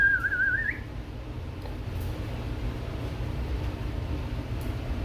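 A person whistles a short wavering tune near the start while painting in oil, the melody fading after under a second into steady low room noise.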